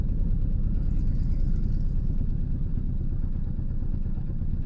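A motorboat engine on Hasai Gari wetland gives a steady low rumble with a slight clatter, heard fairly close and without pause, and no talk over it.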